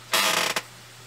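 A squeaky chair gives a sharp creak lasting about half a second, then a brief second squeak, close and with no talking.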